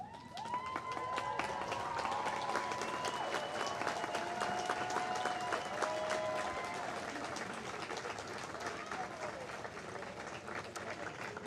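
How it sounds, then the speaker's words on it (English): Graduates at the Linfield College 2017 commencement applauding the audience, a broad, sustained crowd applause with cheers and whistles over it, filling the hall for the full length and easing slightly near the end. "I invite the graduating class to stand, turn, and applaud the special people in the audience who helped you reach this day"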